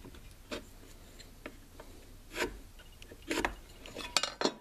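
Pencil scratching a line across a wooden block for a DIY cell phone tripod mount, a few short raspy strokes that grow louder toward the end, close and alone.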